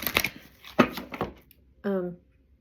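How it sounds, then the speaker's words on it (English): Tarot-style cards shuffled for a full moon reading, a few quick riffling bursts up close, followed by a short spoken sound. "I'm going to pull a few cards here."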